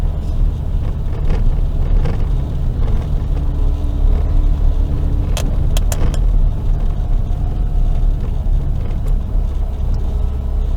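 A truck drives along a bumpy stretch of Jamaica's southern coastal highway near Bull Bay, with a loud, constant engine rumble and road noise and a few sharp knocks from bumps.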